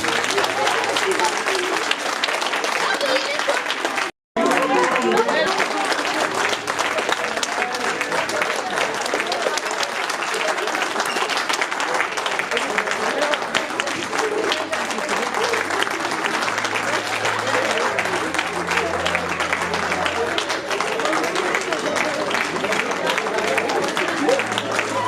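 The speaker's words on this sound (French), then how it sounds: "c'est vraiment tous les jeunes qu'on va inviter sur scène pour que vous les applaudissiez bien fort" Sustained audience applause for young performers invited on stage at a local talent show, dense and steady for the whole stretch with only a brief cut, and voices murmuring beneath it.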